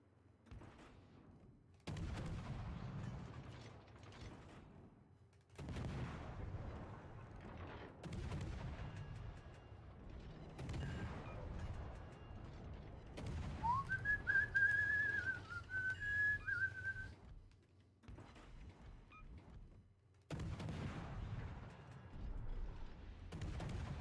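Gunfire and artillery-like blasts in a multiplayer shooter match come in repeated bursts separated by short gaps, with a whistling tone rising over the middle of the clip.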